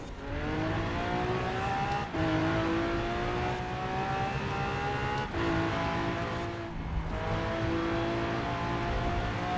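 A Lamborghini Aventador in Forza Horizon 4 revs hard through repeated gear climbs, each rising engine howl broken by brief shift gaps, loud and close with no voices.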